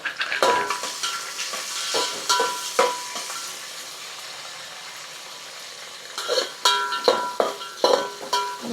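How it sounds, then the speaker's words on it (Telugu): Peanuts, seeds and onions frying in a pan, a soft steady sizzle broken by bursts of stirring and clinking of a utensil against the pan at the start and again near the end. "దాంట్లోనే చెనిక్కాయ పప్పులు దాంట్లో తర్వాత గింజలు వేసుకున్నాం, ఎర్రగడ్డలు వేసేసుకున్నాం."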